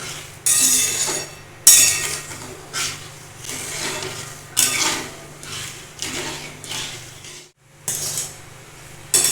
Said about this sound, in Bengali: এখন নাড়তেই থাকবে এটা